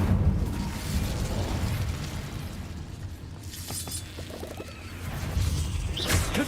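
A fire spell, Incendio, is cast in Hogwarts Legacy, giving a loud, sustained roaring blast with heavy low rumble and crackling bursts throughout, swelling again near the end, with no voices.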